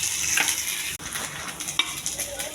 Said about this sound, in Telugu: ఉల్లిపాయలు, జీలకర్ర, ఆవాలు, మెంతులు ఇవన్నీ వేసి వేగిస్తున్నాను.